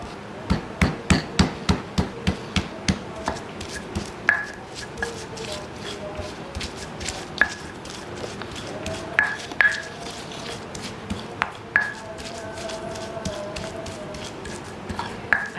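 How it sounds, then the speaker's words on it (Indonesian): A stone mortar and pestle pounds boiled garlic, chili and peanuts for Betawi ketoprak, first in a quick run of sharp knocks, then in scattered grinding strikes with faint ringing taps. "Ini bawang putih, cabai secukupnya, kacang ya, kita ulek dulu ya."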